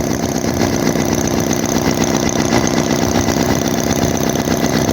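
A warm vintage Chinese HOLT H75 four-cylinder engine idles loud and close, with an even, steady chugging rumble that continues throughout.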